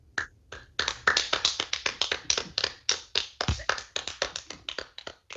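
Sparse clapping from a small audience at a community gathering, a few hands giving uneven, distinct claps at close range that continue for several seconds.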